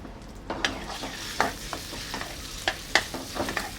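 Tuna sizzles in extra virgin olive oil in a pan, a steady frying hiss broken by repeated sharp clicks and scrapes of stirring.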